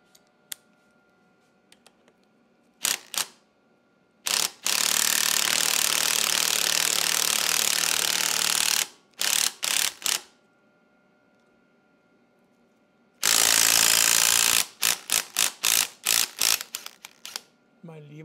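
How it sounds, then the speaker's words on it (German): Someone loosens the lower clamp on a Honda CB500 disc brake, working close to the microphone with sharp clicks and clatters and two long harsh ratcheting or whirring bursts of a tool, separated by quieter gaps. "jetzt mache ich die untere Klemme los und dann wird mir das Ding hoffentlich in die Hände fallen"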